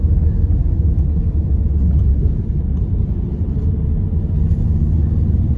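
A restored Peugeot 205 hatchback drives along, giving a steady low engine and road rumble that stays close and constant throughout, with no voices.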